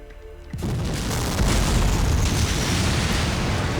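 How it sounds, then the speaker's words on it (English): A loud, roaring explosion from a dragon's fireball in a visual novel bursts in and rumbles on continuously, a dense wall of crackling, rushing noise with no let-up. "Sounds of destruction and hot air rushing around the roof."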